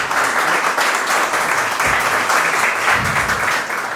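A gallery audience at an art exhibition opening in Venice applauds the artist Nicola Furlan, with loud, dense, continuous clapping close by for the whole stretch and a few low voices mixed in.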